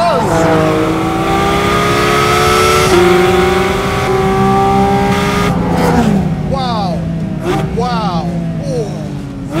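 Porsche Cayman GT4 RS flat-six engine revving hard toward a 9,000 RPM redline, loud rising harmonic wail with shifts and repeated high-rev sweeps, continuous and close.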